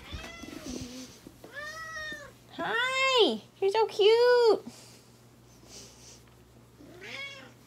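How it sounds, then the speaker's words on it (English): A house cat gives several clear, drawn-out meows close by, some rising and falling in pitch, while someone talks to it in a cheerful voice between the cries. "Kitty!"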